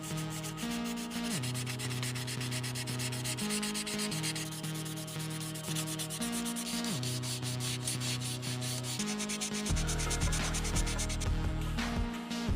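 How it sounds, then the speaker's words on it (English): A plastic 1/24 scale Hasegawa Nissan R92CP model car body is sanded by hand with a Tamiya 1000 grit sanding sponge, giving steady, close, rhythmic back-and-forth rubbing strokes with no talking. "Then TAMIYA sanding sponge. I used 1000 grit on this one."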